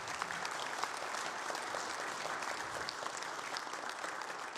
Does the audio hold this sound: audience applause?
yes